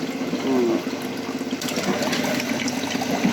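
Water flows and bubbles steadily through an air-pump hydroponic tank system, a continuous close liquid gurgle with a brief rise in splashing partway through.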